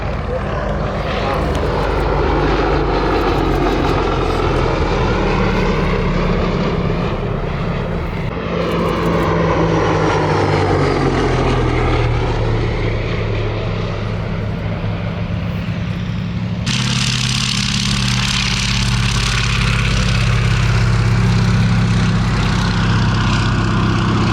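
A loud, droning Bristol Mercury radial engine of a Gloster Gladiator biplane roars continuously at an airshow, its pitch rising and falling as the plane passes, with a sudden brighter surge in the later part.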